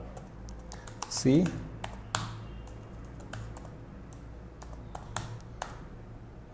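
Keys clatter on a computer keyboard as a compile command for a Java array program is typed, with quick uneven clicks and a louder cluster early on, mixed with brief speech.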